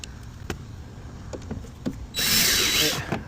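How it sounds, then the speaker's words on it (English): Faint taps and knocks give way to a power drill whirring loudly for about a second, close by, then stopping, while building a camp kitchen. "But I can still use the drill for the centerpiece."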